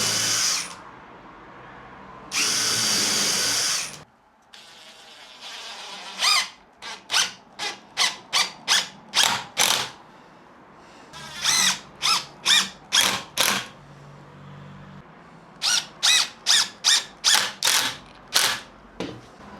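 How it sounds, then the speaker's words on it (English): A power drill driving 70mm screws into wood: two long motor whirs at first, then rapid bursts of short trigger pulses in clusters, close and fairly loud, no talk. "drive into each corner, 4 corners, 3 of these 70mm screws that way in"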